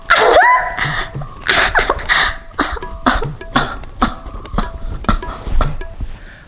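A person coughs repeatedly in a domestic comedy scene, a series of sharp, close, loud bursts spaced irregularly over a few seconds with breathy gasps between them.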